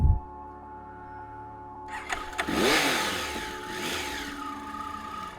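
A motorcycle engine revved with the throttle at a campsite outside Florence, Oregon, rising in a couple of swelling bursts after a short rattle, moderately close and with no talking.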